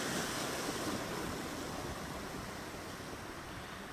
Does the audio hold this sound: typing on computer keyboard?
no